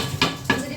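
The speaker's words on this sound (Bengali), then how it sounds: "মাংসটা খুব ভালোভাবে কষিয়ে নেওয়া হচ্ছে" Chunks of beef are stirred and braised in a pot, with two distinct metallic scrapes of a utensil against the pan over a low steady background hiss.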